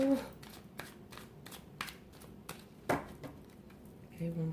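Tarot cards are shuffled by hand in a quiet room, a series of soft, crisp riffling bursts at an uneven rhythm, close and fairly faint, with a brief murmur of voice at the start and end.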